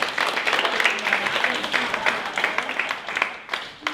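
A small audience on a makeover challenge show gives a round of applause, uneven and moderately loud, with scattered individual claps standing out and fading toward the end.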